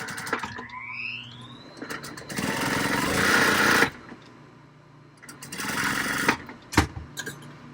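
Sewing machine stitching a project bag close to the fabric edge, with two loud sustained runs of fast whirring motor and needle, short pauses and clicks between them, close up.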